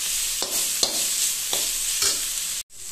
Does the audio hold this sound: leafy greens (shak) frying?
yes